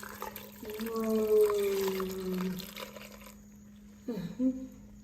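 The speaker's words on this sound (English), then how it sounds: "We'll go ahead and pour our tiger nut milk." Homemade tiger nut milk is poured into a container for a mango smoothie, a steady liquid stream lasting a few seconds, faint and near, then a short second splash after a pause.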